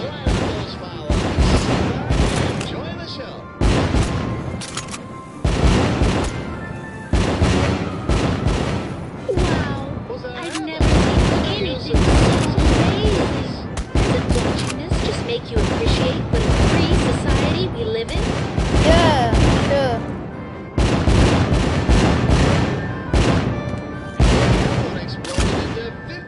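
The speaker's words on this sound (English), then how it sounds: "Light up those fireworks." A celebratory fireworks show with loud booming bursts and crackling volleys arriving in dense rapid clusters, separated by short pauses, sustained and close throughout.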